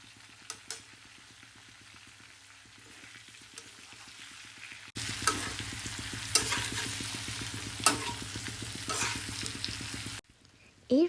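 Small carp-type fish with salt and turmeric stirred in a hot pan: quiet sizzling at first, then a louder stretch of frying with scraping stirs before it cuts off.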